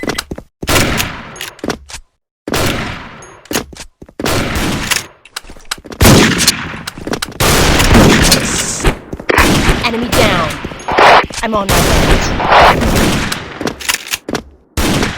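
A shooting video game fires loud, choppy bursts of gunfire in rapid volleys, broken by short silent gaps, with dense back-to-back shots through most of the stretch.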